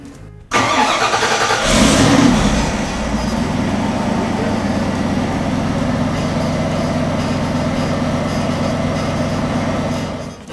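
A homebuilt car's engine cranks and catches almost at once, then settles into a steady, loud idle running close by for about ten seconds, with no talking.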